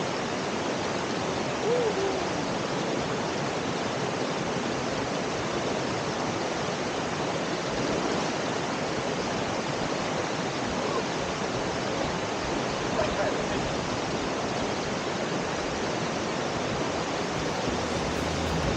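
Kuli Kuli Falls, a cold spring in San Luis, Aurora, pours in a steady broadband rush of falling water, even and unbroken throughout, moderately loud and alone.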